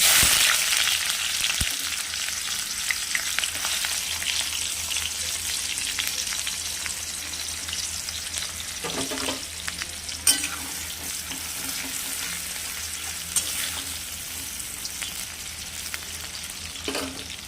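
Chopped onion hitting hot oil already tempered with cumin seeds sizzles steadily and loudly throughout, with occasional stirring scrapes and a few sharper crackles and pops rising over the continuous fry.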